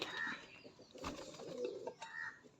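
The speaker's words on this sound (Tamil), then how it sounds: "சரி இப்போ நம்ம பழைய புறாக்களுக்கு இறைய போடலாம்" Pigeons being fed grain flap their wings in a few short bursts, with soft cooing between the flutters, faint and nearby.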